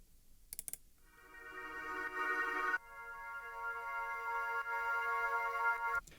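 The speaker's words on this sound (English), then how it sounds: "I've added in 2 more vocal swells which sound like this after they've been pitched to fit." Two pitched vocal swells for electronic music, soft synthetic held tones that rise in a smooth swell and then shift to a lower sustained pitch, quiet and alone after a few faint clicks.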